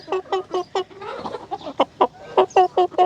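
Chickens cluck in a quick run of short, sharp notes, pause amid some mixed squawking, then resume their rapid clucking nearby on a farm.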